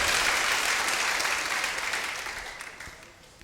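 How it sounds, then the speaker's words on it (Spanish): A church congregation applauds for the Lord during a Spanish-language sermon, steady dense clapping that starts loud and gradually fades toward the end, with no voice over it. "démosle un aplauso al Señor fuerte"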